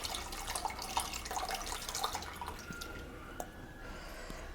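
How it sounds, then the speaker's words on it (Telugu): Water trickles and drips as it is added to tamarind juice for Andhra-style ulavacharu, a steady splashy pour that fades after a few seconds into quieter background with a faint tap. "అందులో కొంచెం వాటర్ వేయాలి."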